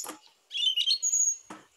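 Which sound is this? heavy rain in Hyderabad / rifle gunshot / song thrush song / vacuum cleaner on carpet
song thrush song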